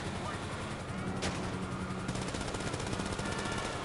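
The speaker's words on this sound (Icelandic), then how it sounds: "Óli, ég veit þú ert að skjóta, hættu" Video game gunfire in GTA, a dense rapid burst of automatic shots running steadily through the whole stretch with a sharp louder crack near the middle, close and loud, with some talk faintly underneath.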